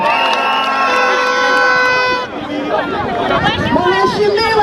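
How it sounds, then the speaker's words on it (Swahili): Large outdoor political campaign rally crowd in Kenya cheering and shouting over a blaring horn and loud amplified speech, with a dense roar of voices continuing throughout. "Mheshimiwa Boka apigiwe makofi."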